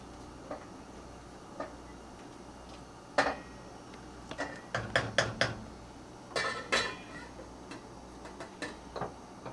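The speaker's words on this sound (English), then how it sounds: "take the lid off my rice pudding, do a little stir" A lid clinks off a pot and a spoon stirs rice pudding, giving a scattered run of light metallic ticks and scrapes, faint and close in a quiet kitchen.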